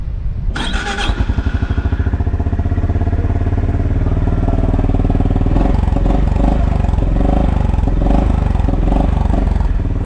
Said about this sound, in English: This is the new Honda CB350RS